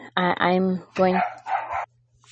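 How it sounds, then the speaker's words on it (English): Dogs barking indoors at home, a few loud close barks in quick succession, ending in a short quieter yip. "I apologize for the barking. The dogs."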